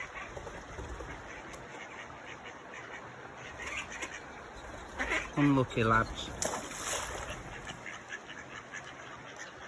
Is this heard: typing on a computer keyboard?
no